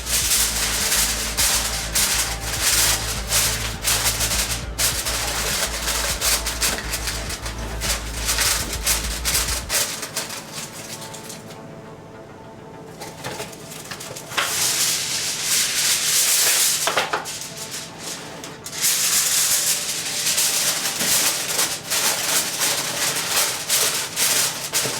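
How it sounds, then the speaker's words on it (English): Aluminum foil rustles and crinkles as it is spread over ribs on a baking pan, loud and close. The crackling is continuous, dips briefly partway through, then swells again, with no talk. "we're gonna put aluminum foil."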